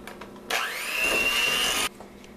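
An electric mixer creams butter and sugar for sugar cookie dough, whirring alone in one steady burst of just over a second that cuts in and stops abruptly against a quiet kitchen.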